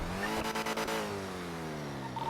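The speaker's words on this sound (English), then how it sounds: "White car just passed through the project going towards Milton" A white sports car in GTA V (NoPixel) roars past close by. Its engine pitch climbs and then slides down over a couple of seconds, with a brief rapid fluttering burst near the start.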